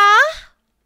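A cat gives a single short meow close by, a bright, wavering cry that slides downward in pitch and stops within half a second.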